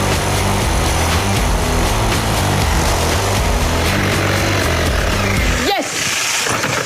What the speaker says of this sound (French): nous décidons de l'attaquer au marteau-piqueur